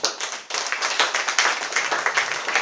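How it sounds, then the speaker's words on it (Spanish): A church congregation claps together in dense, steady applause, close and loud, with no talk over it. "Dense un aplauso."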